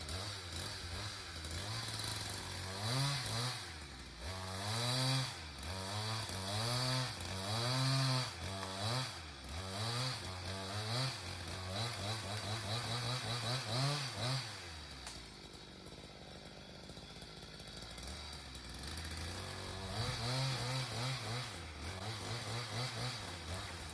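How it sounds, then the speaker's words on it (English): A chainsaw fitted with a new, very sharp chain cuts into a rotten tree, its engine revving hard in repeated surges, then dropping to a rough idle and revving up again, loud and close. "complete new chain on this thing because it got so nice"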